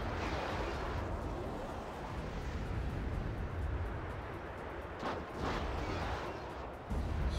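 Missiles firing in the real-time strategy game Act of Aggression, heard as a dense, continuous roar of launches and blasts with sharper bursts near the end, loud and with no talk over it.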